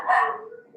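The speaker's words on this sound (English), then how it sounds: "sorry, I've got background dogs" Dogs bark in the background behind a door, a single short bark with a fading tail, loud and fairly close indoors.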